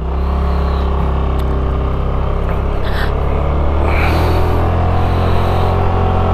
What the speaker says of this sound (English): it has a nice deep throaty exhaust